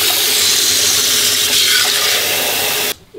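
Cold, icy water pouring steadily from a glass indoors, a loud continuous splashing rush for about three seconds that stops abruptly.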